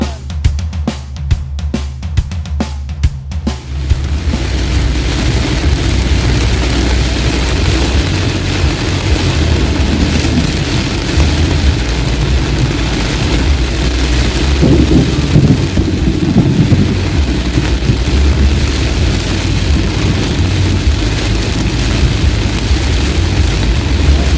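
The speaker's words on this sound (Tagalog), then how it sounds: "Tapos ngayon sobrang lakas ng ulan, mga kababayan." Heavy downpour roars steadily and loud after a few seconds of patchy lead-in, with low thunder rumbling underneath on a scorching day turned stormy.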